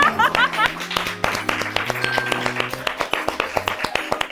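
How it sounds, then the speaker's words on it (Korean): Scattered, uneven clapping from a small studio group during a Korean talk-show chat, with sharp hand claps breaking through voices and light laughter. "오늘 첫 최초의 기립박수"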